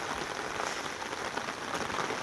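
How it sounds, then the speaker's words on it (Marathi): Steady heavy rain pours down in a dense, even hiss, with no pauses and no voices. "आज बघा सकाळ सकाळ पाऊस चालू झाला"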